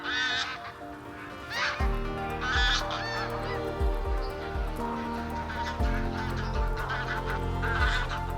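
Geese honk repeatedly in a loud, overlapping chorus over a steady background hum, the calls coming in uneven bursts throughout.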